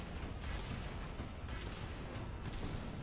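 Steady rumbling gunfire and explosions in the Halo 3 campaign mission The Ark, a dense continuous barrage with no voices.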